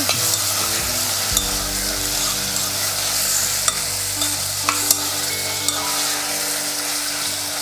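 Half a kilo of chicken for chicken sambar with sorghum fries in a pan, a loud, steady sizzle close up with occasional scrapes and clinks of a spoon stirring the pieces.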